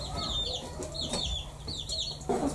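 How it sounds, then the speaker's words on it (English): Small birds peep and chirp busily in a household setting, a rapid run of high calls repeating close by, with a louder burst near the end and no talk. "Those birds are peeping like mad."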